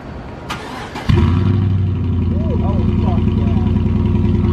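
A cold lifted Chevrolet Silverado with no exhaust cranks briefly and catches on a cold start, then settles into a loud, steady, rumbling idle with some voices faintly over it.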